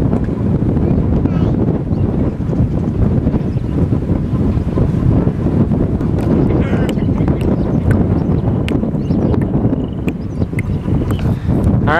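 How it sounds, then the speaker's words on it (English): Strong wind buffets the microphone in a steady, loud roar that never lets up, with faint rustling and ticks underneath. "it's windy, huh?"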